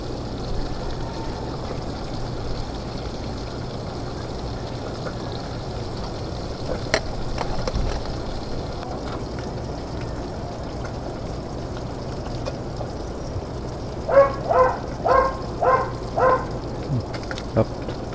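Water poured in while cooking sweet potato tops for a salad with bagoong makes a steady, continuous rushing hiss for the whole stretch, fairly close and even, with a few short voice-like bursts rising over it near the end.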